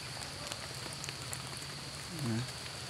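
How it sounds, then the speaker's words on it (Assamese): Light rain falls steadily over a forest, a soft continuous hiss with faint scattered drops, and a voice briefly speaks near the end. "বৰষুণো পৰি আছে একটুপ দুটুপকৈ"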